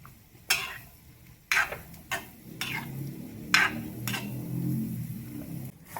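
A spoon stirs coconut and cooked lentils for Kerala erissery in a pan, with several loud scraping strokes spaced through the stretch over a faint, steady sizzle underneath.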